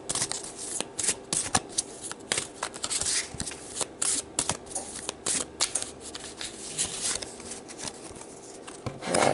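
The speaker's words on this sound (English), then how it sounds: "So let's pull some more cards here to see what this is all about." Tarot cards shuffled by hand in a steady run of crisp riffling and slapping bursts, close and fairly loud, with no talking.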